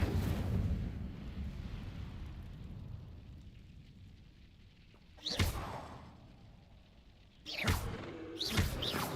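Incendio fire spell cast in Hogwarts Legacy: two sharp whooshing bursts of flame, one near the middle and a louder double burst toward the end, over a steady background game rumble.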